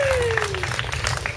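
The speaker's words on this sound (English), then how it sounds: "please allow your appreciation to take the form of some applause for our younger children" Audience applause for young children at an Aikido school demonstration, a brief burst of clapping under a low crowd murmur, fairly close.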